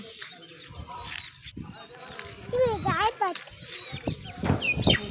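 Chickens on a rooftop cluck and squawk in short bursts, growing louder toward the end, mixed with a child's and adults' chatter.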